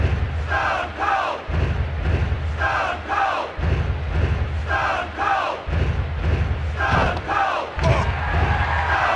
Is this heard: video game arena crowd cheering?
yes